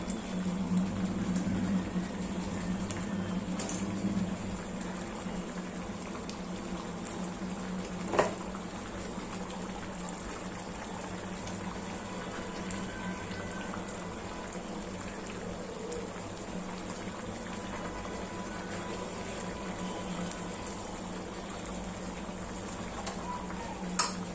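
Clam curry simmers steadily in a pot, a soft continuous bubbling burble that stays fairly faint, with an occasional small clink.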